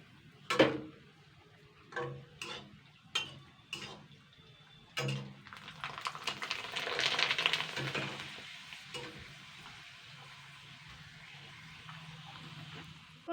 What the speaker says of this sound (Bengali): এইভাবে ভেজে নেব যে কটা সে কটা আমি করে নেব